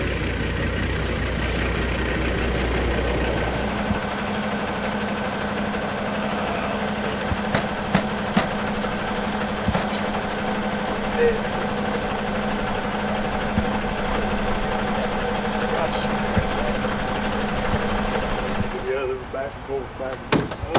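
A logging truck engine idles steadily at a swamp logging site, a continuous low diesel rumble with clicks and short air bursts, while people talk over it intermittently.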